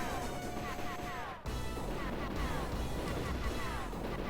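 Rapid arcade gunfire and crashing impacts from a 1992 Konami Wild West shooter, C.O.W. Boys of Moo Mesa, as players blast a train boss's cannon; dense, continuous and loud with a brief dip partway through.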